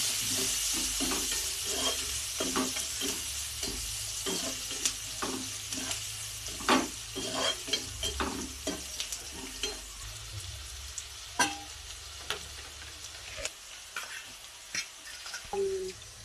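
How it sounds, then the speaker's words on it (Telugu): Curry leaves and green chillies frying and being stirred in a pan of oil for egg curry, with steady sizzling and repeated scraping, clinking stirs throughout, close and without talk. "అలాగే కరేపాకు దానిపైన వేసుకుంటాం కొంచెం కలుపుకోండి ఇప్పుడు ఈ విధంగా"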